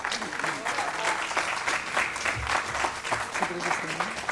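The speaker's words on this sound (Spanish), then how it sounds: "Un aplauso, por favor." An audience at a book presentation at the Lima book fair, FIL Lima 2024, applauds the writer Rafael Rivera Mundaca, steady nearby clapping of a modest crowd with murmuring voices and a few louder bumps mixed in.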